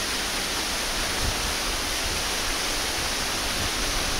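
A small freshwater stream spills like a little waterfall straight into the sea at Pantai Pancur beach in Alas Purwo, giving a steady, close, full rushing wash of water with no talking.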